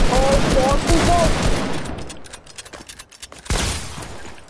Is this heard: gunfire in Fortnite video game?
yes